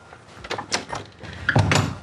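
A door is handled and swings open indoors, a series of close knocks, clicks and thuds building over two seconds with a latch-like tap near the end, no talking over it.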